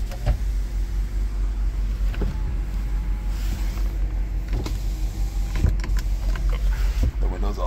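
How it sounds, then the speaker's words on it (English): Power windows on a 2006 Range Rover run inside the cabin, with motor whirs and thumps of the glass stopping at intervals over a steady engine hum. "The windows all function."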